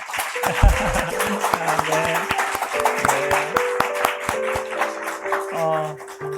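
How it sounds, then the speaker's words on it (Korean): A church congregation claps in welcome for visiting missionaries, sharp rhythmic hand claps close by, heard together with sustained organ or keyboard chords throughout. "우리 축복의 박수 할까요?"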